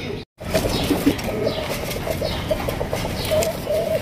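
Fancy Arabian coca pigeons coo in low, repeated murmurs while wings flap in brief bursts, close and continuous over a busy background, with one short gap near the start.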